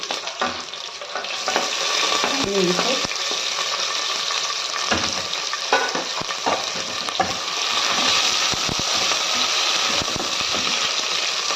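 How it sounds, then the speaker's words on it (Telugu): Onions fry in hot oil with green chillies, giving a continuous close sizzle with occasional stirring scrapes and clinks of a spoon against the pan, loud and steady with no talking. "ఇలా బాగా ఫ్రై అవ్వాలి ఆనియన్స్"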